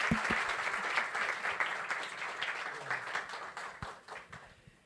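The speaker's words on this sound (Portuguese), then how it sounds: "Uma salva de palmas para ele" A church congregation applauds after a personal testimony, with soft clapping that starts fuller and gradually thins out and fades.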